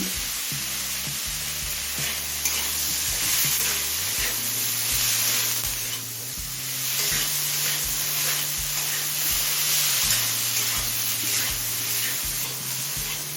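Eggplant frying in a pan with salt and turmeric, a steady loud sizzle running continuously with faint stirring scrapes, no talking.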